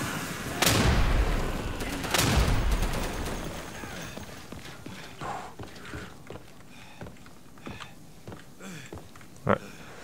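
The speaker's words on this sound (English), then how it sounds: "Sounds like a lot of friendly fire." Friendly fire in the Day of Infamy shooter: two heavy, loud gunshots ring out early, followed by a scatter of quieter, more distant shots and clattering, with faint voices mixed in.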